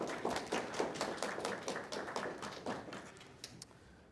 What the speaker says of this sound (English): let's have a round of applause now for Yvonne